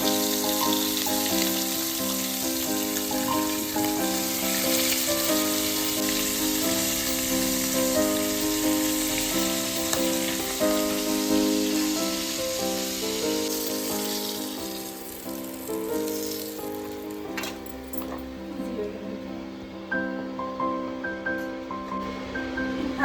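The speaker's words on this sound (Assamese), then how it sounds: "তেল গৰম হ'লে মাছ দি দিওঁ।" Magur fish frying in hot oil with steady, dense sizzling throughout, a continuous crackle with faint bubbling that quiets slightly toward the end, while a soft background tone hums underneath.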